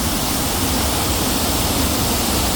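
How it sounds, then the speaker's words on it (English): Steady rushing of flowing water at the FDR Memorial fountain in Washington, DC, loud and continuous like a small waterfall close by, with no voices. "Listen to that water."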